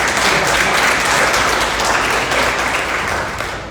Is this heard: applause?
yes